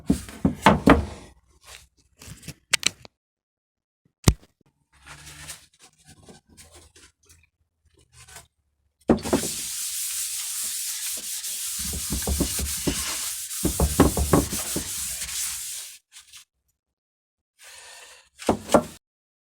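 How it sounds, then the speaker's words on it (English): Hand-scrubbing a finish into guitar wood: scattered short rubbing strokes and knocks at first, then a long stretch of steady, hissing abrasive scrubbing, ending with a few more brief rubs. "I need to keep scrubbing that."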